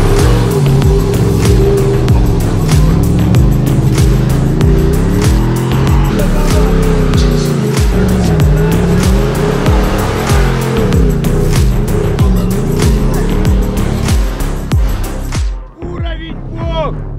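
A car drives up a steep hill, its engine droning steadily and loud with wavering pitch under constant strain for about fifteen seconds before cutting off abruptly, followed by a brief quiet.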